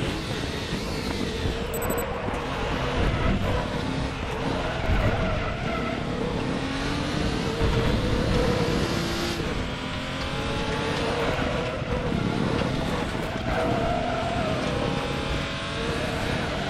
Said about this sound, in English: We can hear those tires just working overtime